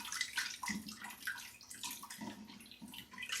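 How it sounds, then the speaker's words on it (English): Milk pours into flour and butter in an Instant Pot set to sauté, a faint, uneven liquid splashing and sloshing sound with short gurgling bursts. "Then we're going to start adding in some milk."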